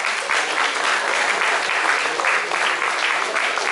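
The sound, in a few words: audience applause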